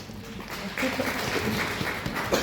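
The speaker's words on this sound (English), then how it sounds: "let's clap hands for him" Parents at a school meeting clap for a speaker, a moderate, scattered patter of hands in a room that builds and continues steadily, with voices murmuring underneath.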